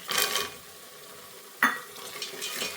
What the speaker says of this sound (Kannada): ಬಟಾಣಿ ಸ್ವಲ್ಪ ಫ್ರೈ ಆಗಲಿ